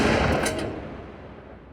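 Gunfire from the final shootout of Reservoir Dogs: a quick burst of sharp shots in the first half-second, then a fading echo and rumble.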